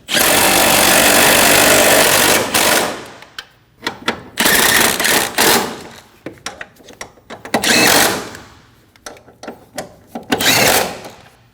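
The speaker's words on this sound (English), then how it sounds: "Snug down the 4 bolts." Power tool tightening the four transmission mount bolts on a 2012-2022 Volkswagen Passat, heard as loud whirring bursts of varying length separated by short pauses, close by with no talking.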